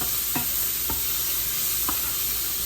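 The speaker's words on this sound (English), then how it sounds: "I don't have much oil in there, so let's see how I'm going to do this. Just keep sauteing." Sauteing in a pan with only a little oil, a constant close sizzle broken by three distinct scrapes of a spatula.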